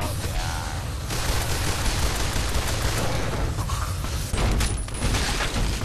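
Dense, continuous gunfire rattles through a Fallout: New Vegas battle, loud bursts and shots crowding together almost without pause, with a few sharper cracks standing out.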